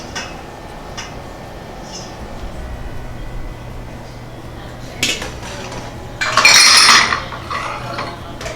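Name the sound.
spoon and bowl handled while making prickly pear syrup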